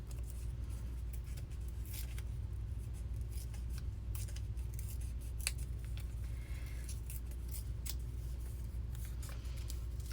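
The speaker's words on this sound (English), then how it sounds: "I think I'm going to tear all the edges." Paper edges being torn for a journal page: a series of short, crisp rips and rustles over a steady low background hum, close by and fairly quiet.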